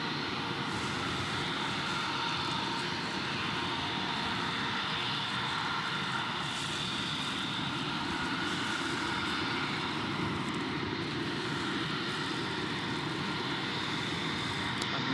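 A Velocity airplane lands at Gold Coast Airport in heavy rain, a steady, moderately distant aircraft engine roar blended with rain hiss and no interruption.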